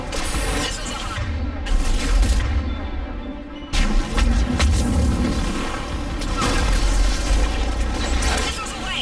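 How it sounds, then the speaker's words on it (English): Missiles launching in Mass Effect 3: a dense barrage of deep booming launches and rumbling blasts, loud and continuous, with a brief drop before the firing resumes, layered with game sound and effects. "Missiles away."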